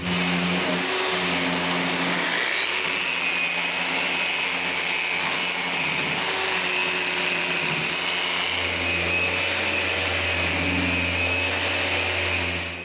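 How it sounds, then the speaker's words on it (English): Power sander working cedar patio benches, a loud continuous whirring drone with shifting pitch as the tool moves across the wood, no voices. "This is the ideal time to sand the benches."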